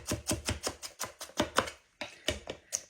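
An onion being chopped with a knife on a board for slaw: a fast, regular run of close, sharp thunks, about four per second, pausing briefly before a few more strokes.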